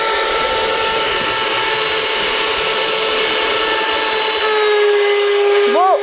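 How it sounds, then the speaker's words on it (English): Cheap stand mixer motor (Sunbeam Mixmaster, Hamilton Beach or Dash Go) running steadily, a constant whirring hum with airy blowing, close and loud, held throughout with a faint brief squeak near the end. "Because the motor in here is blowing air, as soon as I put the sugar in, it just blew back on me."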